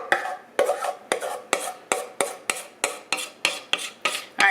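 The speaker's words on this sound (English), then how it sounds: "I'm going to scrape all the rest of this out of this pan" Brownie batter is scraped out of a pan in a quick, regular series of about a dozen short scrapes, each with a sharp start that fades away. The scrapes sound close and clear, with no talking.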